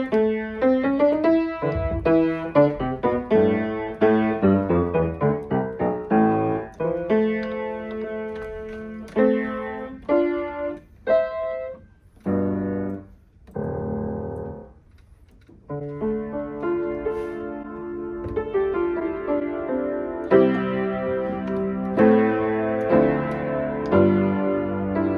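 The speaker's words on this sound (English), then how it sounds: "I'm checking how the piano sounds before I start tuning." Out-of-tune Kawai GX-2 grand piano on a cruise ship, played as loose chords and runs with frequent pauses and uneven dynamics, heard close and alone.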